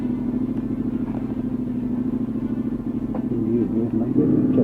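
A Honda NC750S DCT motorcycle engine rumbles low and steady up close, then builds slightly as the bike pulls away, with a few brief clatters.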